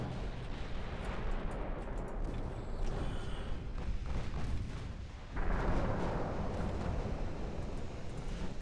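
A naval cruiser fires its broadside in Ultimate Admiral Dreadnoughts, heavy booming gun blasts and rumbling artillery rolling over a busy battle din, with a large burst and sustained roar near the middle.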